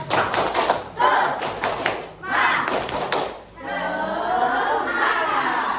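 Fifth-grade primary school class doing a rhythmic spirit clap in a maths lesson: bursts of patterned group claps and slaps with short pauses between, then a stretch of livelier overlapping noise near the end.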